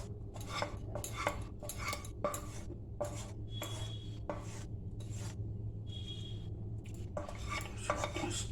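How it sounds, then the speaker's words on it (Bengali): Cooked chicken scraped and poured from a heavy wok into a bowl, giving a steady series of metallic clinks and scraping strokes roughly every half second, close and moderately loud over a low background hum. "এটা এখন আমি বাটিতে ঢেলে নিচ্ছে।"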